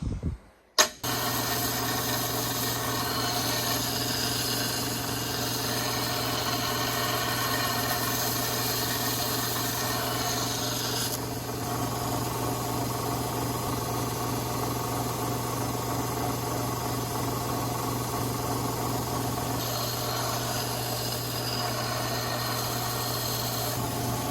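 A grinder shapes the bevel of a hunting and camp knife blade freehand, with a steady, continuous grinding whine that runs unbroken and fairly loud after a brief start.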